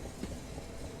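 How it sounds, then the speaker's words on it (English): A Class 465 electric train pulls away on the Southeastern line from London Victoria toward Orpington in Train Simulator 2021, with a soft, steady low rumble and a faint hum as it gathers speed. "the sounds of the train accelerates as well"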